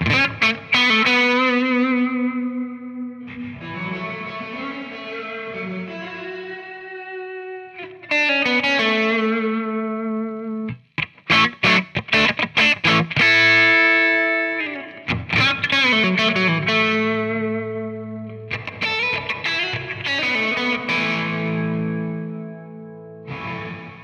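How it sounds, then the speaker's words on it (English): Electric guitar played through a reverb pedal, blending dry and wet signal: sustained chords and picked notes ring out with lush, chorused, slightly distorted tails, loud and alone with brief pauses between phrases. "The crossfade knob works the same way for all algorithms and basically mixes the fully dry sound on the left with the fully wet sound on the right."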